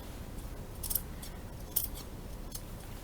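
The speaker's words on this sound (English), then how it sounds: "I'm using the tips of my scissors and just working my way around" Several crisp snipping clicks spaced irregularly, like scissors tips cutting, fairly faint over a low steady background hum.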